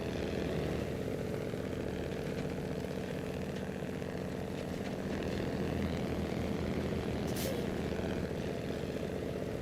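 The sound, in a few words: Splinter Cell plane taking off in the video game SnowRunner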